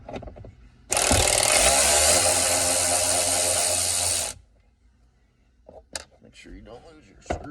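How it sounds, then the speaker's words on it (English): A power driver spins out the small T20 Torx screws on a 2007–2013 Chevrolet Silverado center console in one loud, steady whir of about three seconds, then stops, followed by light handling clicks and rustling. "We're going to start off by taking off the T20 torque head screws."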